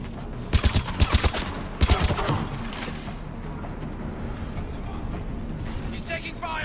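Rapid bursts of gunfire in the sci-fi shooter Mass Effect 3. Two tight clusters of loud shots crack out early, then a lower rumble of battle continues under shouted combat voices.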